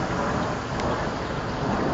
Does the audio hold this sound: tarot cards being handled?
no